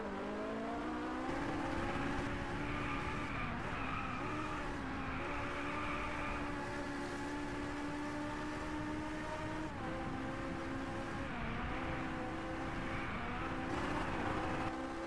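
A Ferrari in the racing game Driveclub holds a steady, harmonic engine drone with slight pitch swells as it slides through drifts in daylight, continuous throughout and fairly quiet, with no talking.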